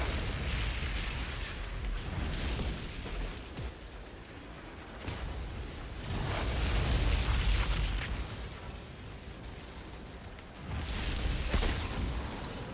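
Heavy booming blasts of scrap grenade explosions in the video game Outriders roll through repeatedly, dense and loud, swelling in waves with crackling bursts layered on top.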